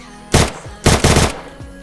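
Machine gun fire in Free Fire played inside Minecraft, two close, loud bursts of rapid shots about half a second apart, each a dense rattle of gunfire followed by a brief lull.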